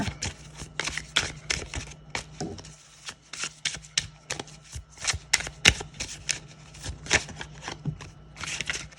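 Tarot cards being shuffled by hand, giving rapid bursts of crisp riffling and slapping card sounds, close and repeated in irregular clusters, with no talk.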